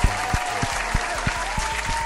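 Several people clapping in a short burst, sharp uneven claps over a low steady hum, with no voices.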